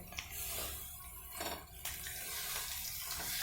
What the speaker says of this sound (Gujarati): તેને આપણે 2 થી 3 પાણી વડે ધોઈ લઈશું